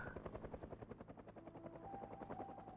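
A helicopter in the Project Zomboid video game thumps overhead, its rotor beating in a fast, steady pulse with a droning engine whine, loud and alone for a few seconds.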